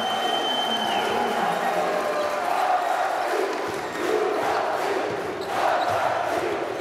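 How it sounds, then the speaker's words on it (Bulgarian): A basketball arena crowd at a Balkan home playoff game rises in a standing ovation, a steady roar of cheering, whistling and clapping that swells near the end, with a commentator talking over it. "Публиката на Балкан изпраща своите любимци с ставане на крака"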